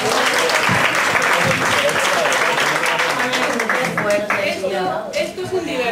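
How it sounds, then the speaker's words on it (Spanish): Audience applause at a panel talk on rare diseases, a loud sustained clatter of many hands that begins at once and thins toward the end as voices emerge and talk takes over. "Muy bien, un aplauso."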